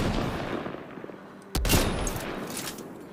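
A sharp, loud precision rifle shot in Mass Effect: Andromeda cracks out midway and is followed by a ringing tail, with steady game background noise before and after.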